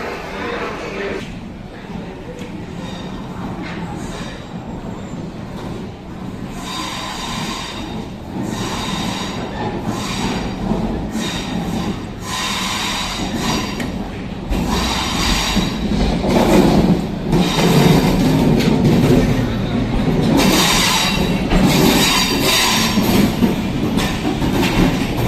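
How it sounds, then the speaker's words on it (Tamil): A MEMU passenger train on the Mysuru to Bengaluru line rolls along the rails with continuous rumbling, clattering wheel beats and sharp metallic squeals, growing louder toward the end while faint voices sit underneath. "இதுதாங்க அந்த டிஃப்ரெண்ட்டான ஒரு மெமு ட்ரெயின் சொல்லியிருந்தேன்"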